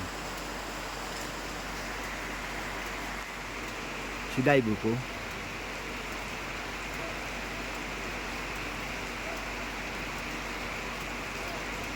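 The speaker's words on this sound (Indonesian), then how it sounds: "Ya, hujan." Steady rain falls throughout as an even, continuous hiss, briefly interrupted midway by a short spoken phrase.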